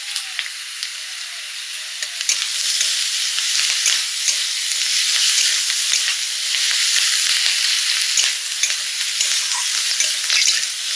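Hot oil sizzles steadily in a pan while chicken cooks, with a dense, crackling hiss throughout and occasional sharp pops and stirring scrapes; it sounds close and fairly loud, with no talking.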